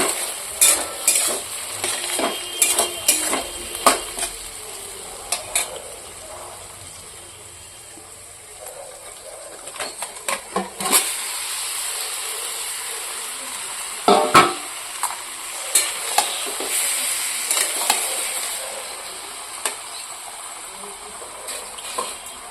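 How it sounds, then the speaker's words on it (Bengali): Meat being stirred into a pan of already fried onion, tomato and capsicum, with sizzling and frying under repeated scraping and clinking stir strokes, close and steady across the whole stretch. "এদিকে পেঁয়াজ, টমেটো, ক্যাপসিকাম সব ভাজা হয়ে গেছে, মাংসটা দিয়ে দেবো।"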